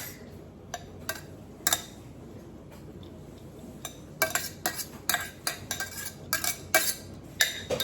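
A metal spoon and cutlery clink against dishes while rice is prepared for stuffed bell peppers: sparse, sharp taps at first, then a busier run of bright clinks and rattles in the second half, close by and with no talking.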